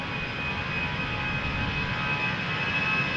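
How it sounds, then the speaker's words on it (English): A Croatia Airlines A319 jet roars loud and steady on its takeoff run at Amsterdam Schiphol, a continuous broadband engine rush with a faint high whine running through it. "Croatia Airlines A319."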